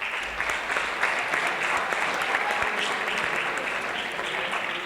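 A room full of people at a high school sports awards ceremony applauds steadily, dense clapping that holds at an even level from start to finish.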